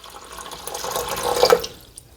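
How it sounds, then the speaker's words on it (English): Water pours briefly into a canning pot holding jars of green beans for pressure canning, a soft splashing rush that swells and then fades over about two seconds. "now we have to put some water in"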